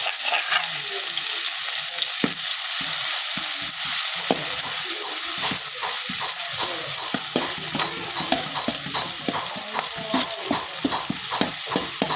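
Wild boar pork and mixed vegetables stir-fried in an oiled pan, a steady loud sizzle throughout with repeated scraping and tossing strokes of a spatula, no talking.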